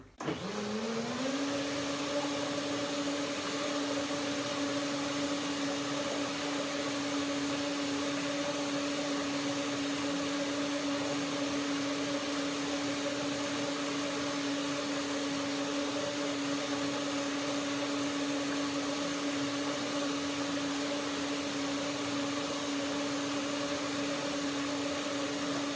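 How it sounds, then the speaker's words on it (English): Blender whirring soaked cashews for turmeric mayonnaise, spinning up in the first second to a steady tonal motor whine that runs unbroken at constant pitch and loudness throughout. "So I now blend it a second time."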